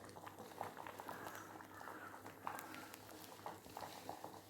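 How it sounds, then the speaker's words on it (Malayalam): Sambar bubbling in a pot on the stove, a faint, steady simmer with soft popping bursts and a low background hum, no voices. "അങ്ങനെ നമ്മുടെ സാമ്പാർ തിളയ്ക്കുകയാണ്."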